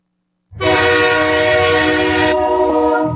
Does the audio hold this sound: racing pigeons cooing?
no